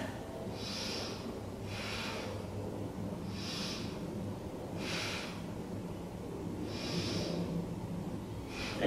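Steady breathing while holding a yoga balance pose, with soft rhythmic breaths recurring about every second or so over a constant low background hum; quiet and close, no talk.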